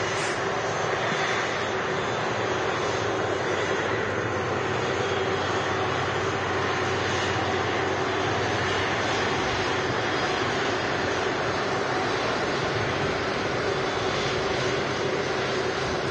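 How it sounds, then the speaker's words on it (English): Airliner jet engines from two Virgin Atlantic Airbus A330s taxiing one behind the other at Manchester Airport, a steady loud broadband roar with a constant whine, continuous and unbroken throughout. "we literally have two Virgin Atlantic A330s taxiing out behind each other"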